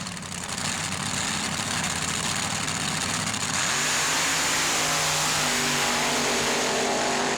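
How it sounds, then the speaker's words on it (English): A loud truck engine roars at high revs during a 1994 truck racing event in Cartersville, Virginia, then drops and settles into a lower, rumbling tone with rising pitch sweeps. "Listen to the power and that Psycho engine"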